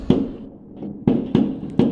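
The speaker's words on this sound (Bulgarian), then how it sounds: "Това е експлозия стана." New Year's fireworks burst outdoors in a series of sharp, loud booms, one early blast followed by three more in quick succession, each with a short crackling decay into quiet.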